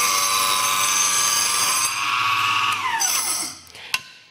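A Proxxon chop saw cuts through a small piece of wood, a steady high whine with a rasping bite that slows and winds down after about three seconds, ending with a sharp click, close and loud with no talk.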